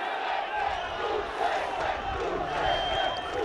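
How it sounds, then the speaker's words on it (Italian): Corigliano football fans protest loudly as the match ends, a continuous roar of crowd shouting and jeering from the stands, with a commentator's voice mixed in. "Incredibili proteste dei tifosi del Corigliano, della panchina del Corigliano."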